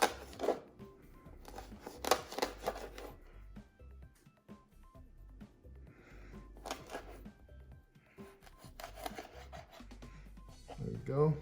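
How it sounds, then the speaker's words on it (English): Salted dried cod has its fins trimmed off with scissors or a knife, giving a series of close, crisp snips and cuts in short bursts, with brief pauses and some handling rustle between them. "I'm going to trim off the fins and discard the tail."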